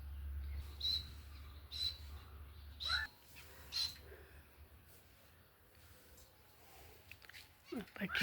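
Small bird chicks chirp softly in thin, high peeps repeated at fairly regular intervals. A voice talks quietly underneath.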